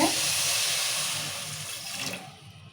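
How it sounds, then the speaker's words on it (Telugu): A cup of water poured onto sugar in a pan to start syrup for boondi laddu makes a short, close rush of splashing that tapers off over a couple of seconds, with no talking. "ఇప్పుడు ఒక కప్పు నీళ్ళు పోతాం దీంతో"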